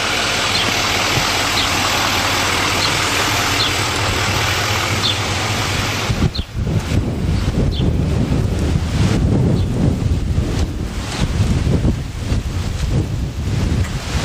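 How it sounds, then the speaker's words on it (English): Wind gusting by the river in Old Town Florence, Oregon, a loud continuous roar buffeting the microphone, shifting in texture midway, with no talk. "It's windy down here today too."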